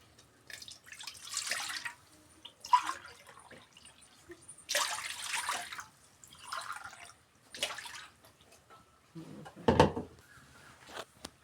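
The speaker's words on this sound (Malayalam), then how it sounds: "അതിലേക്ക് 3 ഗ്ലാസ് വെള്ളം ഒഴിച്ചു കൊടുക്കുക" Water poured from a glass into a cheenachatti on the stove, several separate splashy pours spaced a few seconds apart, fairly quiet, with near-silence between them.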